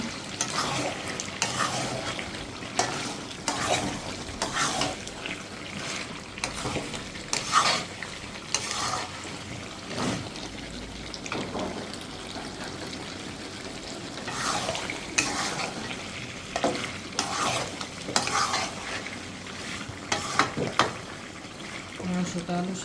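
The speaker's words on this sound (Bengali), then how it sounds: "আমি আগেই লবণ হলুদ দিয়ে ভেজে রাখছিলাম আলু আলুটা দিয়ে দিব" Pre-fried potatoes, seasoned with salt and turmeric, are stirred into a pan of frying beef curry, giving a continuous sizzle broken by repeated scraping and clattering strokes of a spoon against the pan, with no speech.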